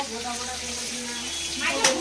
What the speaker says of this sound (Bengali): বোতল ভরলো।